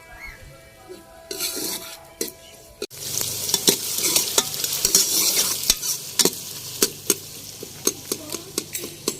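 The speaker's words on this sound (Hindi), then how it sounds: "प्याज थोड़ी सी नरम हुई है तो मैंने अदरक लहसुन का पेस्ट और टमाटर हरी मिर्चें भी डाल दी हैं। अभी इनको अच्छे तरीके से भून लेते हैं।" Onions, ginger garlic paste, tomatoes and green chillies sizzling in a pan, with a loud surge of frying as ingredients go in and repeated sharp spoon clinks while stirring, close up.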